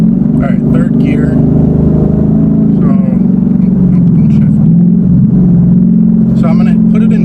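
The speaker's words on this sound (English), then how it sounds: "Alright, 3rd gear." A 2018 Ford Mustang set up for nitrous runs in 3rd gear, its engine a loud, close, steady low drone that wavers slightly in pitch without a clear climb.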